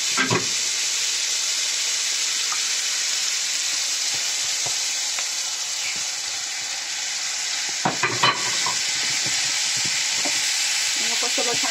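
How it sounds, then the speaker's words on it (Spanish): Mushrooms, onion and garlic frying in a pan, giving a steady loud sizzle and hiss throughout. A few scraping stirs and utensil knocks come near the start and again around eight seconds. "Hemos puesto los champiñones, la cebolla, el ajo y lo removemos bien"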